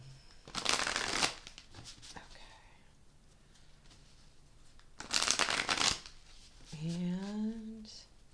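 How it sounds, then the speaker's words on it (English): A deck of cards is riffle-shuffled twice, each a brisk burst of rapid flutter about a second long, close up, with soft speaking between and after the shuffles. "I'm going to do a couple more shuffles."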